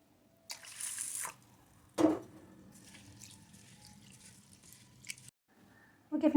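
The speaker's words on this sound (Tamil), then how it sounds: "தண்ணி ஊற்றி ஒரு 3 டைம்ஸ் வாஷ் பண்ணிக்கோங்க" Rice and lentils are swished and rinsed in water in a bowl, giving soft splashes, drips and wet squishing with quiet pauses between.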